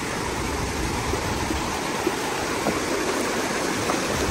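A river runs strong and swollen after heavy overnight rain, a steady broadband rushing roar of water close by, continuous and unbroken with no voices.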